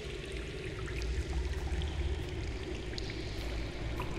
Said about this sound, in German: Hier ist Wasser.